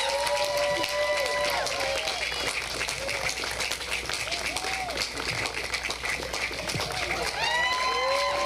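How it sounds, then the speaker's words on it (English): Applause and cheering from an outdoor crowd at a community night-out event, a steady wash of clapping lasting several seconds with scattered shouts and voices mixed in. "Please give her a round of applause."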